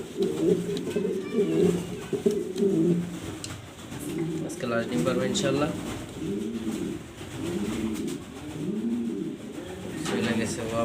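A female pigeon coos in repeated low, rolling phrases at close range throughout, with someone talking over it.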